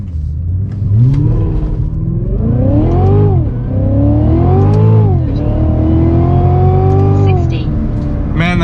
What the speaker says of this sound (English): Putting power on the throttle.